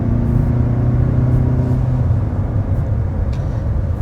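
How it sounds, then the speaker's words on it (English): A 2027 Kia Telluride Hybrid SUV accelerates in sport mode, producing a loud, steady low engine rumble and whir heard from inside the cabin that eases slightly toward the end, with no one speaking. "that acceleration we just did was in the sport mode"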